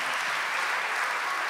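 A concert audience applauds during an orchestra show, a dense, steady wash of clapping that holds at an even level for the whole short stretch.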